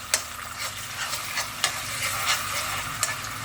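Whole spices and garlic-ginger paste fry over low heat in a karahi for mutton karahi, giving a soft, steady sizzle with a few sharper scraping clicks from stirring; no talking.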